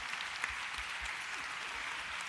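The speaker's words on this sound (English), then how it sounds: "Keep clapping it up for these folks." A crowd claps steadily at a live community event in New Orleans, with even, moderately distant applause that holds for a few seconds.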